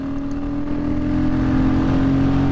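Royal Enfield Classic 350 motorcycle engine thumping steadily at close range while riding, its low drone echoing off a nearby wall and swelling slightly louder.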